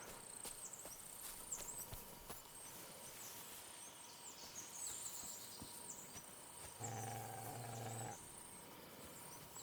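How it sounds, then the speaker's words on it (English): A wild dog growls in Kingdom Come: Deliverance II. A low, steady growl rises for about a second over soft insect and cricket ambience in the game world. "Is that a wild fucking dog?"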